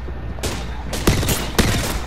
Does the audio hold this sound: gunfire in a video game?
yes